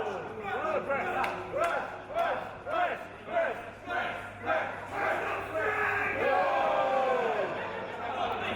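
A wrestling crowd at a CZW IPW event chants and cheers in repeated rhythmic bursts, then swells into sustained loud shouting, with a commentator's voice mixed in.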